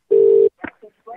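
A single steady electronic phone-line tone sounds for about half a second after a call cuts off, followed by brief bursts of voice-like sound.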